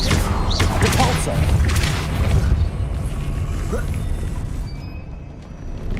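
Depulso knockback spell in Hogwarts Legacy, landing as a heavy booming impact with crashing debris and rumble, settling into a lingering low ambient drone.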